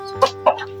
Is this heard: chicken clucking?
yes